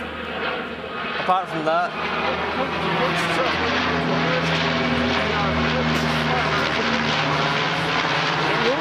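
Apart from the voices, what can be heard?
airplane flying overhead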